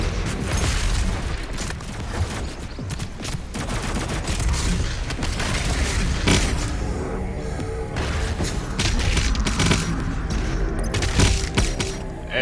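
A double-barrelled shotgun fires in Doom Eternal with loud, dense blasts and booming impacts. The bursts come in rapid, irregular succession amid constant combat noise and explosions, and no one talks.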